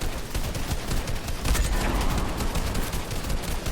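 M16A4 rifle gunfire in a video game, a near, loud run of rapid shots cracking out in quick succession across the whole stretch, with no talk over it.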